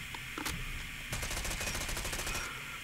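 Suppressed rapid-fire gunfire from the AS VAL in Call of Duty Mobile ranked play, a couple of isolated shots followed by a steady fast burst of muffled cracks, close and fairly loud.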